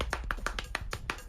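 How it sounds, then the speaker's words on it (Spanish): Body percussion with palms slapping the thighs: seven or so crisp, evenly spaced slaps in a quick steady rhythm, close and fairly quiet, with no talking. "Palmas percutando parte de nuestro cuerpo."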